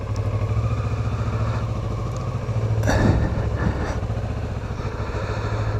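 A motorcycle engine running steadily near a helmet camera, a continuous low throbbing drone with a brief louder surge as it shifts into first gear, no voices.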